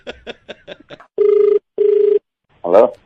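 A telephone bell rings in two long electronic bursts with a gap between them, loud and close, following a quick run of short tones and ending as a voice starts to speak.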